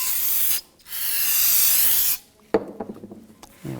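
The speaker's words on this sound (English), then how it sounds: "Just gonna use a little brake parts cleaner." Brake parts cleaner sprayed from an aerosol can onto front brake parts of a 2006-2010 BMW 550i, two close, steady hissing bursts with a short pause between, followed by clattering handling of the parts.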